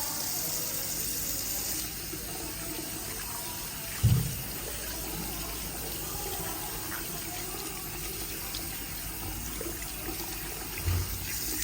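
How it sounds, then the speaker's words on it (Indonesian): Hands washed under a running tap at a sink during a hand-hygiene demonstration, a continuous steady gush of water with occasional splashes and knocks, no talking. "saya sudah selesai melakukan cuci tangannya Bapak"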